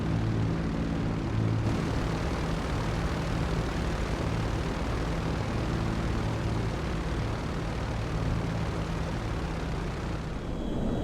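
An aircraft taxis on the deck of an aircraft carrier in the GTA 5 video game, a loud continuous engine roar with a steady hum that holds without a break, no voices.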